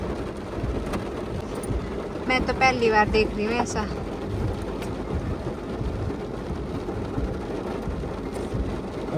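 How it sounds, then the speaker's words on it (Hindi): Heavy rain pours steadily during a night-time thunderstorm while driving on a road, a broad constant roar throughout with someone speaking briefly over it. "बारिश इतनी तेज है ना"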